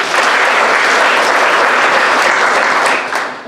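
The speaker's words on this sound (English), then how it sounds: "Give her a round of applause, please." A school awards assembly audience claps for an honoree. The applause is loud, dense and continuous, with no voices over it, and it fades a little at the close.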